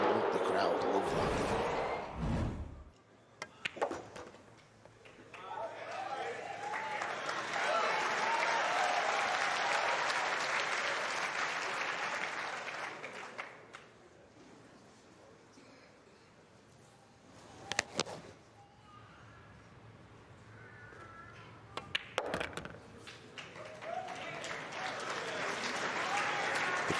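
A crowd at a three-cushion billiards world championship applauds a shot, swelling into sustained clapping for several seconds before fading, with scattered sharp ball knocks and commentary voices afterward.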